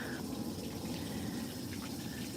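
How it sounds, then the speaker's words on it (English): Small stream or tiny waterfall near the Potomac River, a steady, full rushing of water that holds evenly throughout without pause. "little teeny tiny streams and even little teeny tiny waterfalls"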